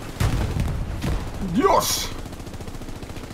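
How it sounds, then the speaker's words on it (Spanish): Machine gun fire during a Hell Let Loose battle on Omaha Beach, heard as scattered bursts and booms under a man's excited speech, with a gasp and a short rising cry. "¡Hostia, la ametralladora ya!"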